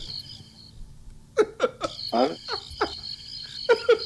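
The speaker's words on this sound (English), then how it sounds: "I think the crickets again." A crickets sound effect plays: a thin high chirring at first, then a run of short chirps and calls in an uneven rhythm.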